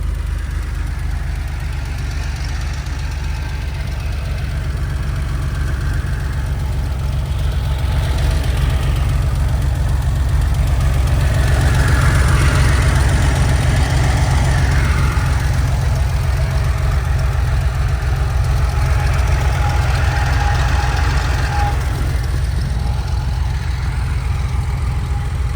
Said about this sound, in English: It sounds excellent. It's just the motor, beautiful.